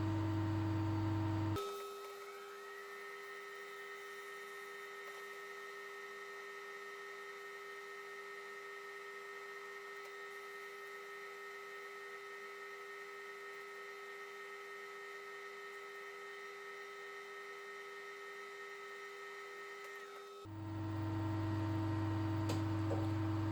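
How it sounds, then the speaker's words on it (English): A wood lathe runs steadily with a constant, even mechanical hum and whine that starts abruptly and holds unchanged for about twenty seconds before cutting off. "then turn the lathe on"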